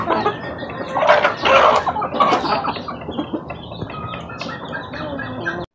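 Native chickens flock clucking excitedly at afternoon feeding time, a busy chorus of overlapping clucks and squawks close by, loudest early on and settling into steadier chatter.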